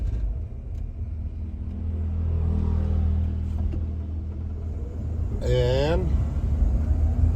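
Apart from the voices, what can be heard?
Ford off-road camper truck driving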